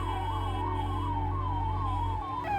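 Fire brigade and ambulance sirens wail steadily up and down, close and loud over a low engine drone, responding to a fire at a bamboo-and-straw akhara during the Maha Kumbh.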